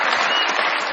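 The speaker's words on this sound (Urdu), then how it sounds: "بہت ساری تالیاں اس کو ساتھ کیجیے" A studio audience at a Pakistani comedy show applauds, producing dense, loud, sustained clapping throughout.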